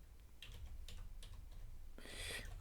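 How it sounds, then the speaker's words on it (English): Quiet, uneven typing on a computer keyboard, scattered bursts of key clicks ending in a quick flurry of keystrokes. "Sorry about the typing."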